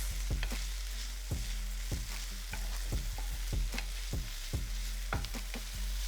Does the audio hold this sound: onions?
yes